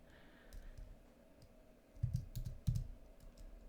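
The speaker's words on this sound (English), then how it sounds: "So let's just type in the name." Quiet clicking of computer keys as a name is typed into a search box, a few soft taps early on and then a brief, closer burst of keystrokes near the end.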